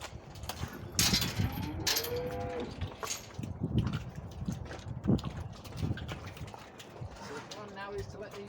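Cattle low and moo repeatedly in a farm pen while cows are sorted from their spring-born calves, several calls rising over shuffling hooves, clattering gates and a person talking.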